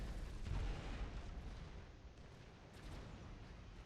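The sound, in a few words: bombers bombing units in a video game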